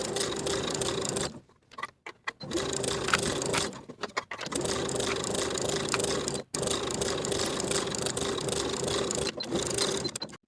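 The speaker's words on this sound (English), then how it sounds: "Sew straight across, attaching the binding along our previous stitching line with a 1/4 inch seam allowance" A sewing machine stitches bias binding onto a linen shirt along a quarter-inch seam, its steady mechanical whirring and ticking running in close bursts separated by brief pauses.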